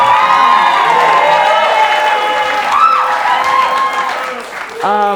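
A studio audience at a host's talk show appearance applauds and cheers loudly and continuously, with voices rising through the clapping before the noise dips and swells again near the end.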